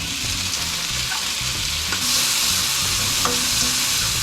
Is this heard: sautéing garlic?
yes